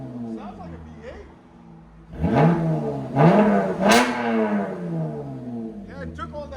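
A 2024 Chevy Camaro RS with a 3.6L V6 and a six-speed manual, fitted with Flowmaster Super 10 and MBRP exhaust, rises from idle into three loud revs that each fall back, close by and outdoors in the cold.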